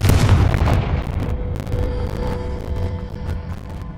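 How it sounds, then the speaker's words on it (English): A Confringo fire spell explodes in Hogwarts Legacy, a deep booming blast at the start followed by a rumbling, crackling decay that fades over several seconds. "Confringo!"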